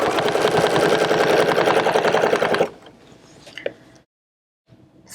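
A sewing machine stitches a pointed leaf design in a rapid, loud, steady mechanical hum for about two and a half seconds, then stops, leaving faint handling clicks and a short silence.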